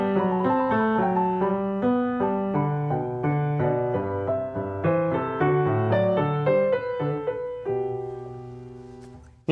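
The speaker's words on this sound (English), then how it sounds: "listen to the opening of the bourrée" Solo piano plays the opening of the bourrée from Bach's French Suites, a lively, clearly articulated line of detached notes in steady dance rhythm over a moving bass, close and bright.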